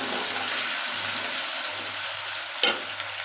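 Potatoes fry with onion, garlic and ginger in a pan, a steady broad sizzle with a brief scrape of stirring near the end, close and alone.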